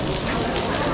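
Rain falls steadily in the courtyard of the Doge's Palace in Venice, a dense even hiss filling the short moment with no distinct drops.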